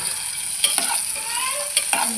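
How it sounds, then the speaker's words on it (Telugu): Green chillies and cumin frying in oil in a pan for tomato pickle, a loud steady close sizzle with several sharp spatula scrapes and stirring clatters, no talking. "ఫస్ట్ బండి పెట్టుకొని ఆయిల్ వేసుకోవాలి. పచ్చిమిరపకాయలు, జీలకర్ర వేసుకొని తీసుకొని పెట్టేసుకోవాలి."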